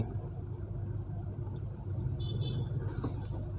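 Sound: AMT automatic car reversing

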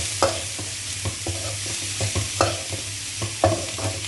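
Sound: cabbage and onions being sautéed for fried rice

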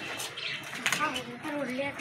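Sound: pigeons being moved to another loft

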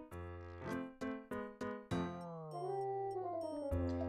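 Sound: dogs barking in Inazuma Eleven 3 video game

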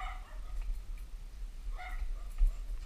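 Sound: dog barking

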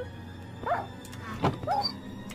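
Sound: dog dying sound in Minecraft video game

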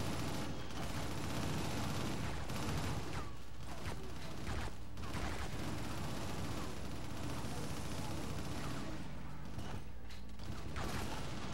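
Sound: gunfire in a video game

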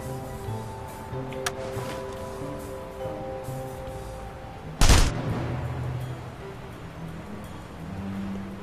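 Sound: gunfire in the video game The Saboteur

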